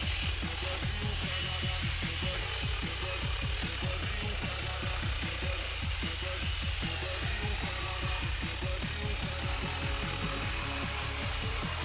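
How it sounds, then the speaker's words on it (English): A grinder working over the edges of snowmobile seat foam, giving a steady loud motor whine with rapid rhythmic chattering pulses throughout, close and uninterrupted, with no speech. "As you begin using your grinder, just kind of clean up the edges a little bit."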